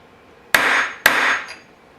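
Two sharp, loud metallic hammer strikes on a center punch set against a Mosin Nagant rifle receiver, about half a second apart, each ringing briefly before fading, with a faint small clink afterward.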